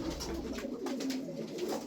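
Soft, low pigeon cooing murmurs steadily, several birds overlapping in gentle throaty warbles, fairly close.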